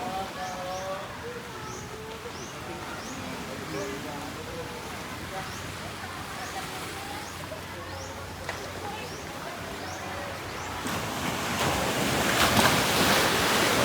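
Surf washing onto Boracay beach after Typhoon Bavi, a steady broadband roar of waves and wind that swells louder toward the end, with a voice talking over it and faint bird chirps.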